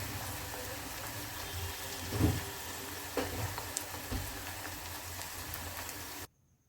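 Onions with ginger garlic paste frying in a pan for kaju masala curry, a steady soft sizzle with a few faint crackles and stirring knocks, ending abruptly.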